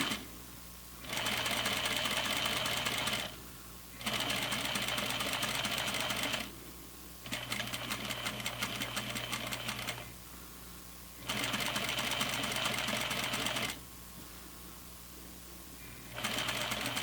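Stitching a row on flannel pajama pants, a sewing machine hums in repeated steady runs broken by short stops, close and fairly quiet, with no voices.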